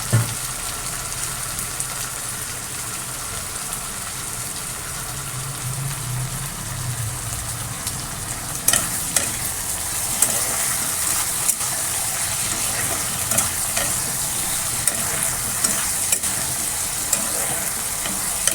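Fish sizzles loudly and steadily in hot oil in a pan alongside crushed garlic and green chillies. A dense frying hiss runs throughout, broken by a few sharper spits and spoon clinks midway.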